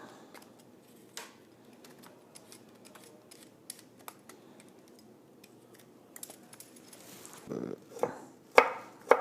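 Fresh turmeric root is cut and peeled with a knife in a kitchen, producing scattered faint scraping and tapping sounds that grow into sharper, louder cuts on a board near the end.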